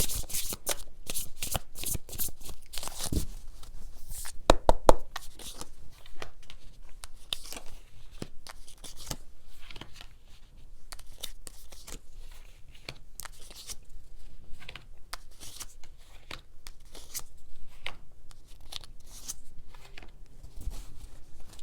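Tarot cards being shuffled by hand, a steady run of close, crisp riffling and flicking bursts with brief pauses, no talking.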